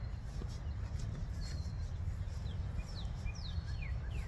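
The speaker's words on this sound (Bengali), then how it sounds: "পাখি বেশ ভালোই গান শোনা যাচ্ছে।" Birds sing in a forest, with short, faint chirps and whistles scattered over a steady low rumble of ambient noise.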